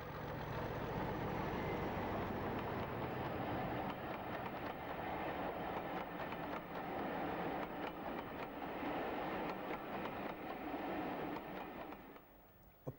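Diesel locomotive 31407 pulls away from Churston station at a heritage railway event, a loud, steady engine roar with rail rumble that holds close throughout before easing at the end.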